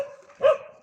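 A dog gives one short bark or yip at moderate distance, rising briefly out of a quiet background.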